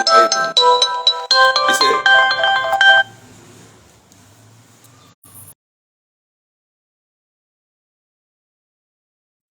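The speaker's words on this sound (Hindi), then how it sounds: "एक फोन आ रहे हैं" A phone plays a loud, bright melodic ringtone for about three seconds, then a quieter tail and muffled room sound before silence; a brief spoken word comes in under it.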